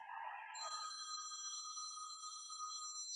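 A mobile phone ringtone rings during a gentle hatha yoga class, a steady electronic tone with bright high harmonics sounding continuously, close and fairly loud, with no talking over it.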